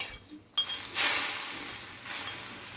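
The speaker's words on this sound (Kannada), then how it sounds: "ಈಗ ಒಗ್ಗರಣೆನ ಈ ಸಾಂಬಾರಿಗೆ ಚುಯ್ ಅಂತ ಹಾಕಿಬಿಟ್ರೆ" Hot tempering poured into coccinia sambar, a sudden loud hiss that bursts in after a quiet moment and settles into steady sizzling, with faint clinks of a ladle.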